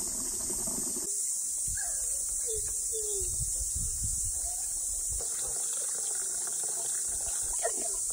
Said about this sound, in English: close your eyes and listen to the bird.